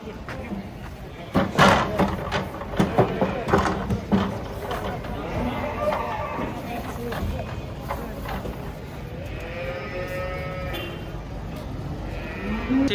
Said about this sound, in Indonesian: ada sapi loreng dan limosin